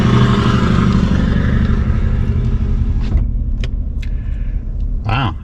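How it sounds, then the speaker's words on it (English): A noisy truck passes close by on a road, its loud engine rumble and tire roar filling the air before fading, followed by a few faint clicks and a brief rising whine. "that guy had a noisy truck"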